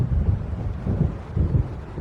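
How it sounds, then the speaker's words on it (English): Thunder from an approaching storm in the video game Alan Wake Remastered rolls low and heavy in repeated rumbling swells, with a windy background and no talk. "It seems there's a storm coming."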